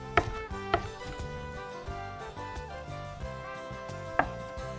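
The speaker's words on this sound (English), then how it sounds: "All I'm doing here is chopping up the scoopings." A knife chopping scooped-out zucchini flesh on a board, with a few distinct sharp chops against quiet, soft kitchen background, fairly close and with no voices.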